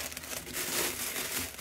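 Soft dividing paper from a shoe box crinkles and rustles close by for a moment, a brief crumpling texture with no voices.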